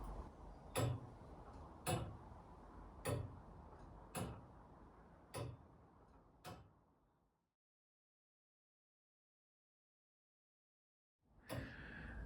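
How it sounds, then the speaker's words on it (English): The turret clock of St Laurence Church in Rowington, Warwickshire, ticks in its clock chamber with six crisp, evenly spaced beats about a second apart. Silence follows, then a brief burst of noise near the end. "you can hear the clock ticking away."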